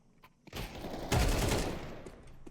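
Bursts of rapid gunfire from a CS2 match, a dense sustained volley that swells loud and then trails off, with no talking over it.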